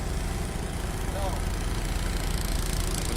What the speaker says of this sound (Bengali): হ্যাঁ, হাউস বোট স্টার্ট দিয়ে।